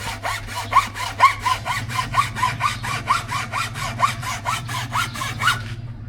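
A hand saw cuts through wood in quick, regular back-and-forth strokes, close and steady, with no talking.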